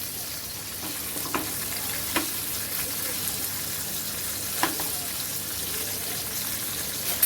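Stuffed chillies fry in a pan with a steady close hiss, broken by a few sharp clinks and scrapes as the pieces are turned.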